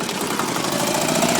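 A Gravely Model L8 with a 10hp diesel engine runs steadily after starting, giving a loud, close, even chugging rumble with no voices over it.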